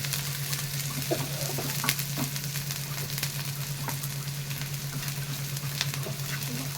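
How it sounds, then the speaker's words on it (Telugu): Cabbage manchurian with onion pieces and green chillies sizzling steadily in a pan, a continuous near crackle of frying with occasional stir clinks and a constant low hum beneath, no voices. "కొంచెం బ్రౌనిష్ కలర్ వచ్చే వరకు వేయించుకోవాలి"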